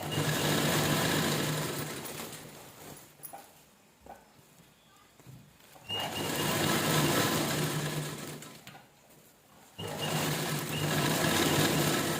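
A sewing machine stitches a folded hem around the bottom of a sandal stand cover sewn from an old sari, running in three loud bursts with quieter pauses between them.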